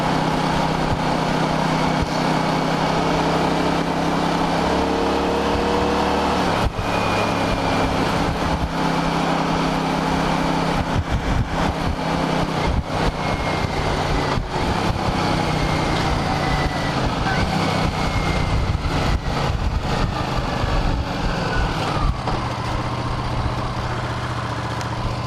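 1983 Honda GL650 Silverwing Interstate motorcycle engine while riding, loud and close with a continuous drone that rises and falls through gear changes, wind rush mixed in.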